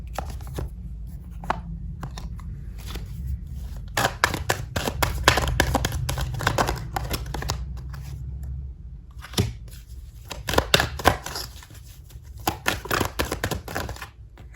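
Oracle cards handled and arranged on a surface, with soft shuffling, rapid flicking riffles and light taps in clustered bursts over a low background rumble, close by and with no talking.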